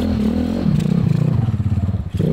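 Customized 210cc motorcycle engine revving high: a loud, close, rough throbbing roar with pulsing firing beats that rises and falls, then dips briefly before picking up again.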